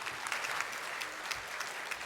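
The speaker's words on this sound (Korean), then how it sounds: "우리 축복과 축하의 박수 드리겠습니다." A church congregation claps together during a Sunday worship service, a short burst of dense applause at moderate volume with no speech over it.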